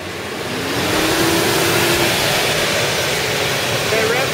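A car engine fitted with leaf-blower forced induction revs up and holds high RPM: a loud, steady roar with a rising whine that climbs and levels off after the first second.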